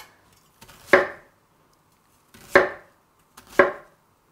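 Three crisp, close knife chops through pear on a cutting board, preparing it for water kimchi, each cut sharp and loud with quiet pauses between.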